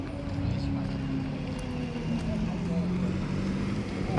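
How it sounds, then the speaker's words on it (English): A Porsche GT3 RS race car drives along a street at an event, its engine a steady, fairly loud drone throughout, with voices talking over it. "It's a race car in the street."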